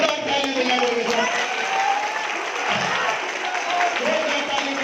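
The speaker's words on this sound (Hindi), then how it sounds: "जोरदार ताली बजाने के साथ" A crowd applauding at a political welcome event, a dense continuous wash of clapping that holds steady throughout, with a voice speaking over it.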